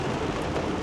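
Evening rain falls steadily in Islamabad, a dense, even hiss of drops heard faintly at a distance for under a second, with no voices.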